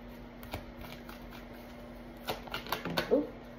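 Tarot cards are shuffled and drawn during a reading, a soft run of close flicking and sliding card noises that builds toward the end, with a faint steady hum underneath.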